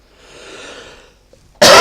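A single sharp, loud cough lands close on the microphone after a short stretch of faint breathy noise.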